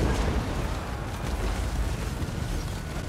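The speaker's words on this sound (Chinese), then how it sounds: "来，火炮们稍微分布轰炸一下。" Artillery bombardment in the battle video game Total War: Warhammer II, heard as a dense, continuous roar of overlapping booming explosions with heavy low rumble and no clear gaps.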